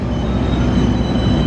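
Executive-class passenger train cars on the Argo Parahyangan line at an Indonesian station, heard as a steady, loud low rumble of rolling stock and engine noise filling the whole moment without any voices.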